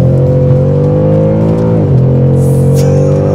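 A Ford Mustang Mach 1 engine revs harder during a test drive, a loud, close, sustained engine drone with a brief dip and shift in pitch partway through before it carries on strongly.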